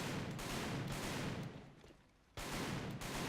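Bursts of automatic gunfire from a rifle in the online shooter Alliance of Valiant Arms, loud and close, two rapid strings separated by a brief lull.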